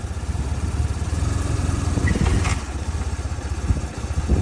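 An Evergreen RT rental motorcycle engine running close by with a steady low putter, pulling away in first gear and moving only a short distance.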